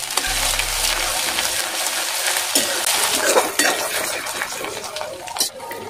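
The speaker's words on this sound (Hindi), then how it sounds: "जीरा, बड़ी इलायची, दालचीनी का टुकड़ा, अदरक और लहसुन का पेस्ट, इसको अच्छे से चला लेंगे" Cumin, black cardamom, a piece of cinnamon and ginger-garlic paste are stirred in a pan, with a steady close scrape of the spoon and clinks against the metal over a soft sizzle.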